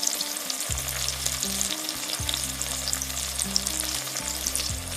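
Whole cardamom pods, cloves and cinnamon stick pieces frying in oil, a steady close sizzle with a low humming drone underneath; no one speaks.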